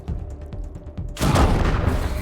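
A grenade thrown in the video game Wasteland 3 goes off with a loud, broad burst that cuts in after quieter game sounds and rumbles on for about a second.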